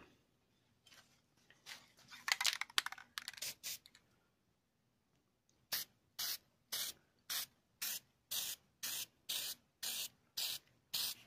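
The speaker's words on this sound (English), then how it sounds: "I'm sure some professional spray painters out there will try to comment about how far away I'm holding this can" An aerosol spray paint can hisses close to the microphone, first in a few irregular short bursts, then in about ten evenly spaced one-second sprays.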